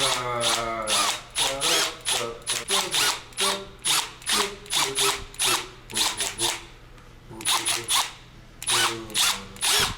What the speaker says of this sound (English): I'm gonna drill 4 holes in the corners